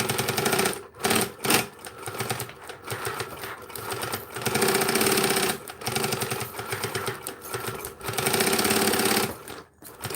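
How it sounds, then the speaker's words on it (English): Sewing machine stitching a straight seam at 3/8 inch, running in loud rapid bursts of whirring needle chatter separated by brief pauses, close and steady with no talking. "Start on a straight. Straights are always the best place to start. And I'm going to sew 3/8, not ½ inch."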